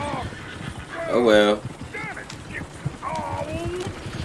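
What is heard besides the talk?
horse neighing and hooves in video game Red Dead Redemption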